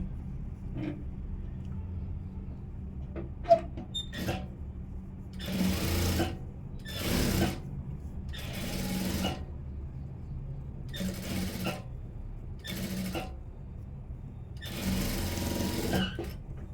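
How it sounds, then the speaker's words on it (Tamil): Sewing machine stitching along the front edge of a blouse, with several bursts of running stitches of a second or so each, separated by short pauses and small handling clicks. The sound is close and steady and no one talks. "இப்போ இந்த ஃப்ரண்ட்டுக்கும் நம்ம லெவல் பண்ணிவிட்டு ஓரமாக தையல் போட்டுடலாம்"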